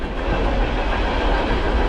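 A freight train of empty grain cars rolls steadily past at close range, a continuous heavy rumble with rhythmic clickety-clack of wheels over rail joints.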